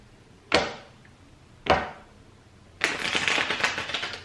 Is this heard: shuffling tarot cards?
yes